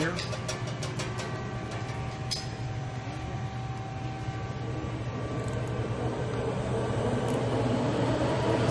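A Victor 7080DCL large-bore oil-field lathe runs in first gear at 41 RPM, producing a steady, loud mechanical drone with a low hum and occasional faint clinks throughout.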